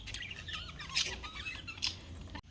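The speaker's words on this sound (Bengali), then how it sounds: "আর পাখির কি দারুণ আওয়াজ করছে।" Several bird squawks and shrill calls ring out in bursts, two louder peaks standing out over a steady low background hum.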